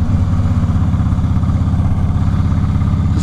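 A motorcycle engine being raced drones loudly and steadily up close, with a throbbing, rapid low pulse and no speech over it.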